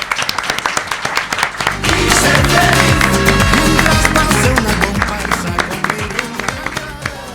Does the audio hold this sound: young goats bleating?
no